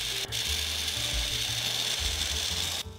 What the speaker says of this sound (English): The bigger the end mill, the more satisfaction during the machining.